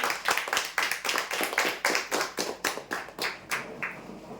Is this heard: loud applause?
yes